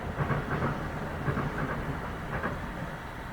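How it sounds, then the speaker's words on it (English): A passing train rolls by somewhere off at middle distance, giving a continuous low rumble threaded with soft clickety-clack pulses and no speech over it. "I heard that train"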